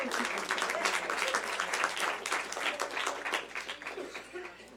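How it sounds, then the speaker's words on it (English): Applause at a board of directors meeting: a room full of people clapping steadily for nearly five seconds, moderately loud and dense, with the rhythm gradually loosening toward the end. "Let's give them a round of applause."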